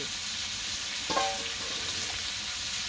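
Onions and green chillies sizzle steadily in a pan for egg curry, with one short clatter of stirring partway through over the even frying hiss.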